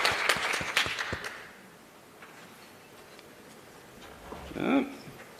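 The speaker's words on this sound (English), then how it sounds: "So round of applause for Louise, please, ladies and gentlemen" Audience applause for a conference presenter at an international conference, a dense burst of clapping at the start that fades after about a second and a half, followed by quiet room tone and a brief voice near the end.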